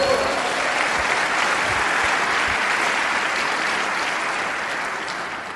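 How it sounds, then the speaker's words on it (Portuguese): Congregation applauding during a church service, dense sustained clapping from a large crowd that stays loud and even, then fades slightly near the end. "Quem recebe, dá um aplauso ao Senhor."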